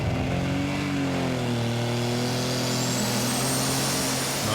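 International 3688 pulling tractor from the Netherlands at a tractor pulling event in Brande, Denmark, its engine roaring loud and continuous with a high whine sliding upward as it revs hard down the track.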